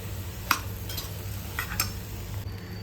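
Rice with salt is stir-fried in a pan, with a low sizzle under several sharp spatula scrapes and taps against the metal.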